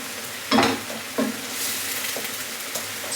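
Teaspoon of tomato puree stirred into a sizzling courgette, pepper and chorizo mixture in a pan, with a couple of scraping strokes over a steady frying hiss, no talking.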